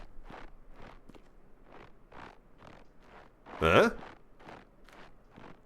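Crunchy footsteps in the Rising World video game, a steady series of soft crunching steps at regular intervals, close by, with one louder burst of crunch or rustle partway through and a brief spoken interjection.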